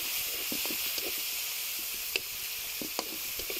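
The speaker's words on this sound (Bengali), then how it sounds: "এখন প্যানের মধ্যে দিয়ে দিচ্ছি 3টা বড় সাইজের পেঁয়াজ কুচি।" Three large chopped onions sizzle in a hot frying pan with a steady hiss, broken by occasional stirring scrapes and light taps, close and fairly quiet.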